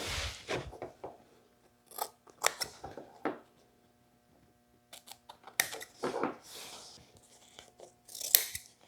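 Upholstery material being trimmed back on a custom interior panel for a 1940 Ford, with a series of close, sharp snipping and tearing bursts separated by quiet gaps.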